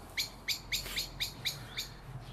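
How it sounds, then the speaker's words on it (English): Birds chirp outdoors in Carnarvon, with about eight bright, evenly spaced tweets in a steady rhythm over a faint outdoor background, fairly quiet and a little distant, with no talking. "there's birds everywhere"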